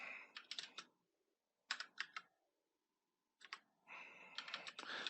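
Bursts of typing on a computer keyboard during CAD die design work, with quick clustered key clicks in three separate runs broken by silent pauses, close and fairly clear.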